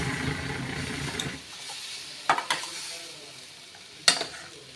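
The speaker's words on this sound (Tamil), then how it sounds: "இப்போ நம்ம ஃப்ரை பண்ணி வச்சோம்ல பன்னீர் இதை ஆட் பண்ணிக்கலாம் ஜென்டில் மிக்ஸ் பண்ணிவிடுங்க" Fried paneer and garam masala are gently stirred in a pan. A faint sizzle is broken by three or four brief scrapes and clinks of a utensil against the pan, then it goes quiet.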